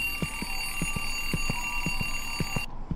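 An alarm clock ringing in the horror video game Dark Veer, a steady repeating electronic beep pulsing about twice per second over a humming background, then cutting off abruptly near the end.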